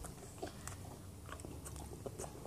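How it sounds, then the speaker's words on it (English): Someone bites and chews a crunchy Reese's peanut butter bar close up, producing faint, scattered crisp crunches and clicks over a quiet room background. "Reese bar, just crunchy."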